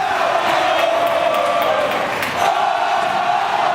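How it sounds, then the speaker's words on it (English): High school basketball crowd at the Liberty North vs Basehor game in the LN Invitational, a steady roar of cheering and shouting fans throughout, loud and sustained. "we got everybody feeling it in the crowd right now"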